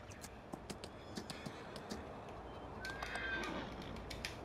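Horse in the video game Farming Simulator 19, faint repeated hoof clip-clops at a trotting rhythm with a soft whinny partway through, over quiet ambient background.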